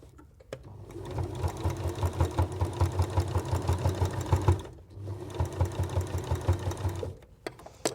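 Sewing machine stitching through layers of fabric and wadding for oven gloves, a rapid close mechanical chatter running in two long bursts with a short pause between them.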